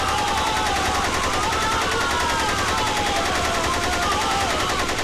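Sustained rapid gunfire from a Hindi film scene, set in a Kashmir village, rattles dense and loud for several seconds, with what sounds like a whistling tone drifting over the shots.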